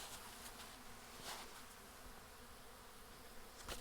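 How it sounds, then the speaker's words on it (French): A dense, continuous buzz of many honeybees swarming nearby around a mixture, a steady droning hum with occasional louder passes. "les abeilles tournent autour de ce mélange"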